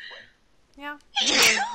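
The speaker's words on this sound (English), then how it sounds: "Oh no, I'm gonna sneeze again." A single loud, close sneeze bursts out after a short spoken word and a quick inhaled breath.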